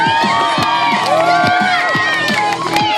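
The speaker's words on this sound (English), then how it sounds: "let's get a nice big clap going" A crowd at a jump bike stunt show at Stratford upon Avon Racecourse claps in a steady rhythmic beat and cheers, loud and continuous, with shouts rising over the clapping.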